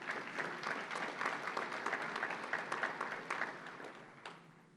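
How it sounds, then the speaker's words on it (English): Applause from a luncheon audience honoring sponsors, faint and steady clapping that tapers off near the end, with no voices over it. "And let's give them a big round of applause as well."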